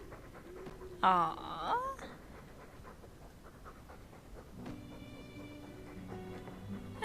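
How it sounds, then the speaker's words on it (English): A Mabari war dog panting in the fantasy game Dragon Age 2, soft rhythmic breaths with a brief whimpering whine near the start, close and fairly quiet over game ambience, with a short spoken reaction. "That's a darling sweetheart puppy."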